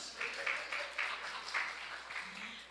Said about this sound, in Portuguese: Uma salva de palmas para o alface.